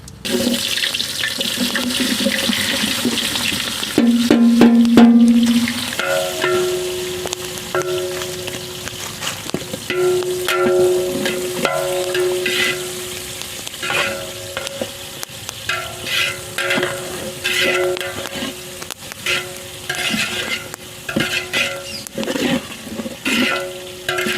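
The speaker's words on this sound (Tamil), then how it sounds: "வெங்காயம் நல்லா வதங்கிடுச்சு." Onions sizzling in sesame oil with cinnamon, cloves and bay leaves for chicken biryani, a steady close frying hiss with stirring scrapes and clinks throughout, no voices.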